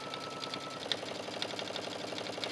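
A sewing machine runs steadily, stitching a long seam down the front placket of a denim shirt dress, its fast even needle chatter continuous and close with no talk over it.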